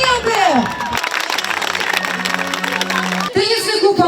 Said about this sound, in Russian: Диплом, медаль, кубок, конечно, iPhone 6 и наши общие аплодисменты.